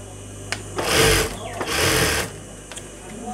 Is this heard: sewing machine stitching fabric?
yes